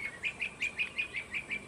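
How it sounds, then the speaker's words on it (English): Pet birds perched on an outdoor wire chirp in a quick, steady series of about eight bright, evenly spaced tweets, moderately near and unaccompanied by talk. "You hear my birds talking to me?"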